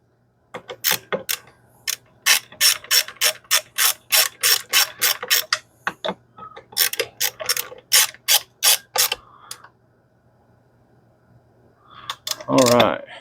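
Hand ratchet tightening parts on a Stihl 041 chainsaw during carburetor work, loud close clicking in rapid runs of ratchet strokes with short pauses between bursts, followed by a brief rustle of handling.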